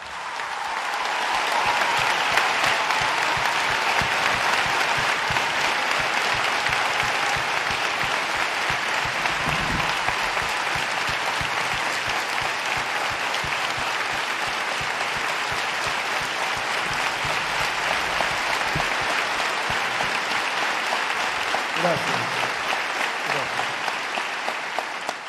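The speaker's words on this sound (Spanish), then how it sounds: "un aplauso." A large audience at the closing of a provincial health congress in Buenos Aires gives sustained, loud applause, a dense steady wash of clapping that keeps going with hardly a break for about twenty-five seconds.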